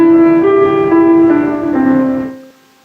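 A short pentatonic melody of a few sustained instrumental notes rises and falls, sounding clear and close on its own, then decays into silence.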